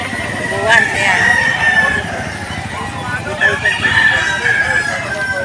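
At a chicken market, roosters crow loudly in long, drawn-out calls that overlap and rise twice, with clucking and busy market chatter underneath.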